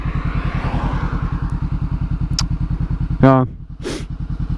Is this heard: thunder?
no